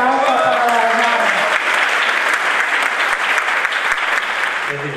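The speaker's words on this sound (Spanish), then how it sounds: "un fuerte aplauso para la hermana" A crowd applauds Sister Josefa at her 90th birthday celebration after she is named an illustrious citizen, steady loud clapping throughout with a voice audible early on.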